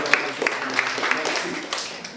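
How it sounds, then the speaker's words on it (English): Audience applause at an art centre in Montreal, a brief muffled patter of clapping with voices talking over it for about two seconds. "Can we have a round of applause for Mr. Diamond?"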